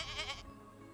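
A goat gives a single short, wavering bleat near the start, fairly quiet, then the sound falls away to faint background hum.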